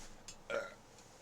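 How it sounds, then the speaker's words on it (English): A single short, quiet burp comes from a person who keeps coughing and burping, close but faint, with a brief soft catch just before it. "I can't stop coughing and burping."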